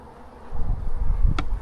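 Honeybees buzzing low and close around a hive during maintenance, a steady drone with a brief sharp tick near the end.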